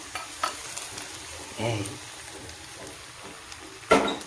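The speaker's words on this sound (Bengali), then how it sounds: "পেঁয়াজ ভাজাটা ঠিক এই সময়তেই আমি দিলাম, দিয়ে আবার ভালো করে কষবো" Fried onions stirred and sautéed in a pan with a spiced mixture, giving a soft sizzle broken by a few scraping spatula strokes, moderately close, with no speech.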